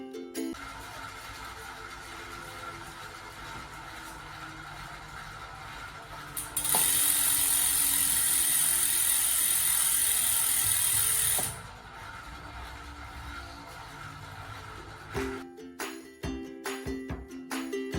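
Zipp Cognition rear hub freewheel on a Zipp 808 NSW wheel, ticking in a steady fine ratchet stream while the wheel coasts, briefly drowned by a loud hissing burst, with a few sharper clanks near the end.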